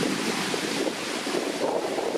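Wind blowing outdoors at Gasper Lake in Wiltshire, a steady rushing buffet against the microphone that stays even and close throughout, with no voices.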